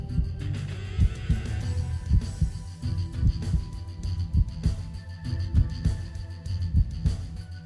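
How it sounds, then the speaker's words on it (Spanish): The heartbeat of a freediver thuds slowly and deeply during a dive, muffled low beats repeating regularly under a faint hum. "Su corazón, más parecido al de una foca o a un delfín que a un hombre, se ralentiza a un latido cada 2 segundos."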